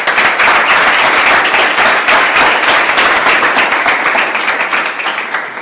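Loud, sustained applause from an audience right after a talk, dense clapping filling the whole stretch without pause and fading slightly toward the end.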